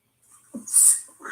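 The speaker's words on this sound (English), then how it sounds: "Sorry, I have allergies. I usually sneeze twice." A person with allergies lets out a single sharp sneeze, a quick inhale followed by a loud hissing burst, close to the microphone in a quiet room.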